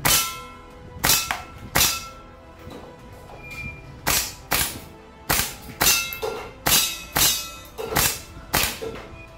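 A WE AK74 gas blowback airsoft gun fires a string of loud, sharp semi-automatic shots, each a cracking snap with a short metallic ring, spaced unevenly about half a second to a second apart, close by and without speech.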